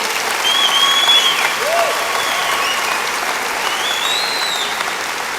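A church congregation applauds in a dense, steady wash of clapping that fills the room, with a few faint voices calling out over it.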